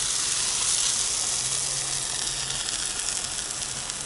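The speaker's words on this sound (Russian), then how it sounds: "делаю себе сейчас омлетик. Помидорчики зеленые, этот болгарский перец. Здесь намешала 2 яйца, посолила, добавила соевого молока." Eggs beaten with salt and soy milk, green tomatoes and bell pepper frying as an omelette in a pan, giving a steady, bright, continuous sizzle close up with no talk.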